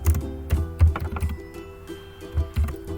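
Close keystrokes on a computer keyboard, typed in short irregular bursts with brief pauses, sharp clacks and soft thumps, no voice.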